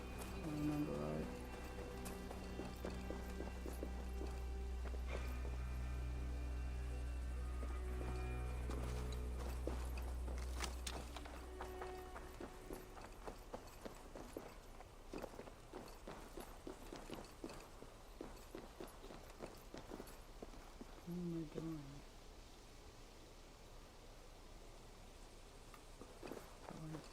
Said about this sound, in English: there's this dude that runs through here on a horse